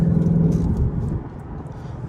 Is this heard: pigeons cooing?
no